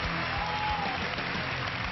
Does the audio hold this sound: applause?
yes